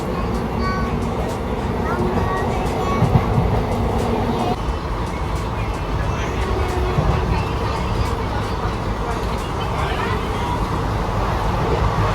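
A passenger train travelling between Manjeshwar and Kozhikode gives a constant low rumble and rattle from inside the carriage, steady and fairly loud, with people talking over it.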